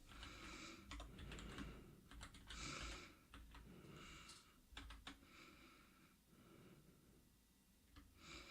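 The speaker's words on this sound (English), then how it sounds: "I'm using the keyboard shortcut, by the way, finally." Computer keyboard typing runs in irregular bursts of clicky keystrokes with short pauses between flurries, close and fairly quiet, with soft breathing now and then.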